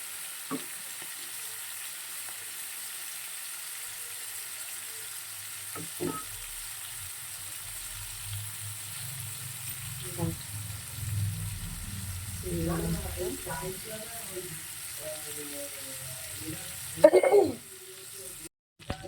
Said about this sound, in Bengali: চিংড়ি মাছটা হালকা ভাজবো, খুব বেশি ভাজবো না